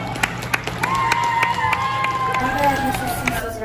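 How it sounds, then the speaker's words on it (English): Scattered clapping rises from a crowd, with sharp hand claps over a steady murmur and a sustained tone running underneath. "Give yourselves a round of applause."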